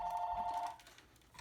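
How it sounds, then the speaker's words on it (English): A telephone rings indoors, one short electronic ring burst heard faintly at a distance, followed by quiet. "I'm going to ignore that because it's probably telephone solicitor as usual."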